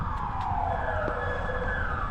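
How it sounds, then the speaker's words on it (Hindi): An ambulance siren wails in a busy Istanbul street near Dolmabahçe Palace, its pitch sliding in long sweeps over a constant rumble of passing traffic, moderately distant, with no voices. "काफ़ी ज़्यादा एम्बुलेंसेस का शोर आ रहा है, गाड़ियों का शोर आ रहा है।"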